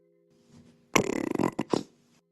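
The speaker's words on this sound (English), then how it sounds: "Burp, burp, burp, burp, fart." A loud, rough burping outburst with a buzzing rattle, followed by a short second gassy blast that may be a fart, over faint background hum.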